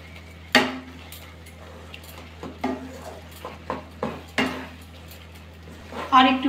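Spoon clinking and scraping against a pot while sugar is stirred into a cabbage and masoor lentil dish, a series of sharp intermittent metallic taps and scrapes, close and fairly quiet.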